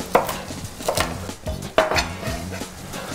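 A kitchen knife cuts a chili pepper on a cutting board while orecchiette with broccoli is being prepared, giving several close, crisp chopping taps at an uneven pace.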